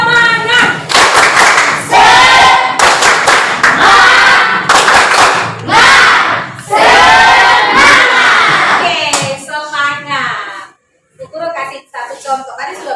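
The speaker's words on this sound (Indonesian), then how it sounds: "Sebelum kita bermain games, kita tepuk semangat." A classroom of children shouts loud, rhythmic chants with clapping bursts in a spirit-clap cheer, near and energetic, then trailing into quieter scattered voices.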